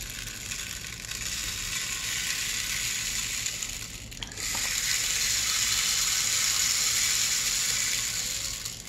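A rain shaker instrument imitating rainfall gives a steady, dense hiss of tumbling beads, close and continuous, with a brief dip midway before swelling slightly louder; no voices.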